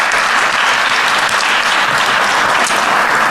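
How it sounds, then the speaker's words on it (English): Audience at a town deliberative session applauding, a brief burst of steady, fairly loud clapping from a crowd in a meeting hall. "I think they really actually deserve a round of applause for that"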